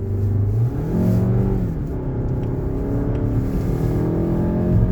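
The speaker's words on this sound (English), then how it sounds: "Makes that signature Mazda Skyactiv engine note." A Mazda CX-5 Skyactiv engine hums and revs up and down continuously, its pitch rising and falling as the vehicle accelerates, close and steady throughout.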